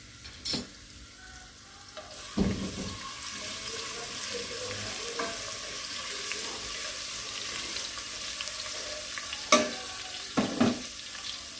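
Crushed garlic frying in about a cup of oil: a steady, even sizzle throughout, with a few sharp clatters of a utensil against the pan.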